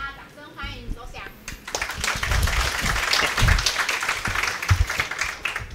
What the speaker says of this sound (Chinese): 请大家掌声欢迎